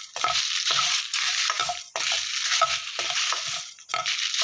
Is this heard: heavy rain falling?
no